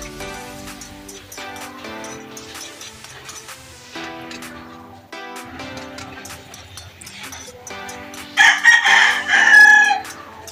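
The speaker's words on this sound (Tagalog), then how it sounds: "May mga manok dito" A rooster crows loudly near the end, with hens clucking in the background throughout, layered over a steady farmyard murmur.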